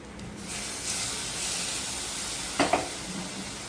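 A brief sizzling hiss as hot water and buttermilk hit roasted sorghum flour in a hot pan, rising sharply for a moment over a steady background hiss of cooking.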